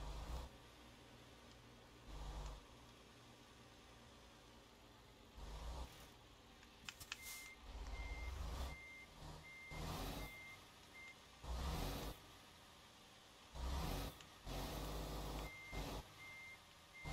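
Reversing beeps from a tanker truck in a driving video game repeat in short, evenly spaced bursts, mixed with low engine rumble and intermittent louder noise swells, and no voices are heard.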